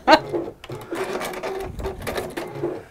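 Sewing machine stitching quilting, a busy mechanical whirr running for about three seconds with a few louder bursts, close and fairly loud, with background voices mixed in.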